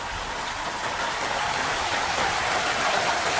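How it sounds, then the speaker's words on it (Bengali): Floodwater rushing into a riverside village house during a dam break makes a dense, continuous hiss of flowing water, loud and unbroken throughout. "পানি, ঘরে পানি ঢুকছে।"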